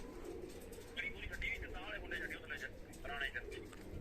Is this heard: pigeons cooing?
yes